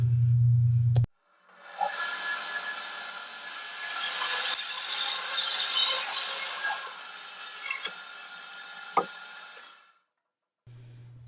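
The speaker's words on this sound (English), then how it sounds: "here I'm just setting up the bandsaw to cut a slice about 3¼ inches" A bandsaw cuts a slice from a block of old burr elm, a steady rasping whine lasting around nine seconds with small ticks and knocks, close and loud, preceded and followed by a low hum.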